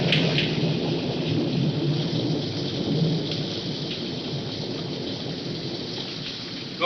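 Steady heavy rain pours down with rolling thunder rumbling throughout, a loud, dense, continuous storm wash filling the scene without a break.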